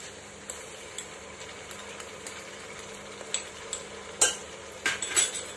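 Ginger garlic paste is added to onions frying over a medium flame, with soft sizzling under scattered metal clinks and scrapes of a spoon in the pan that grow busier toward the end.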